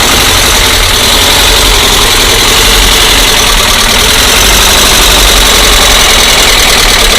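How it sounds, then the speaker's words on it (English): A small air-cooled Volkswagen 1600 engine idles steadily and close up, with a fast, noisy ticking clatter from out-of-adjustment valve tappets over the continuous rough hum. "You can tell the tappets need adjusting."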